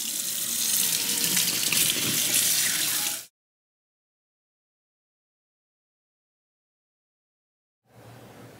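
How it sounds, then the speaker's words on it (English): A tap runs steadily as hands are washed at a sink, a loud, close rush of water for about three seconds, then silence before the flow briefly returns more faintly. "This is what washing my hands looks like."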